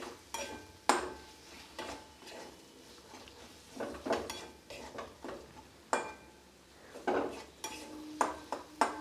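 Chopped tomato and dal are stirred in a pan over medium-low heat, with repeated scraping strokes of a spoon against the metal over a soft sizzle, irregular and close.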